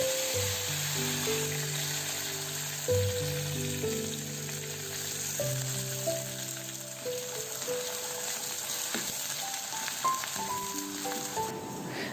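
Mustard seeds, shallots and garlic fry in hot coconut oil, giving a continuous close sizzle with light crackles and occasional stirring sounds.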